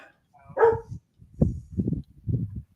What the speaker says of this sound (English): my dog's got to start barking